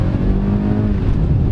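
A BMW 520i G30 kicks down and accelerates with a steady, loud engine drone heard from inside the cabin.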